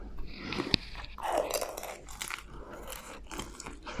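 Close-up bites and crunchy chewing of Japanese dumplings, with repeated moist, crackly mouth sounds in an uneven rhythm, quiet and without talk.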